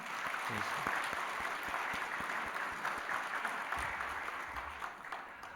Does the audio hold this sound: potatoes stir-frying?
no